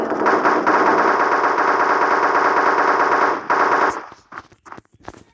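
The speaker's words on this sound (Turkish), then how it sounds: "Uy taramalı. Taramayla da öldürürüm." Sustained machine gun fire from the shooter game Special Forces Group 2, loud and continuous for several seconds, then a brief pause and a short final burst before scattered fainter game sounds.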